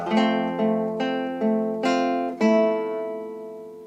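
Acoustic guitar plucks a bar of Beethoven's Für Elise, about six clear notes in a slow sequence including an open E, each ringing and decaying, close and solo with the last note sustaining.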